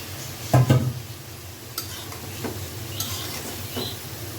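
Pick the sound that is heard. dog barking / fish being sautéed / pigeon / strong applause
fish being sautéed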